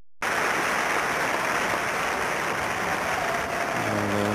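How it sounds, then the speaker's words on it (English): A cricket crowd at a 1984 Benson & Hedges Cup semi-final between Yorkshire and Warwickshire applauds in a broad, steady wash of clapping that starts abruptly, with a commentator's voice coming in at the very end. "Just applauding in, Graham Stevenson."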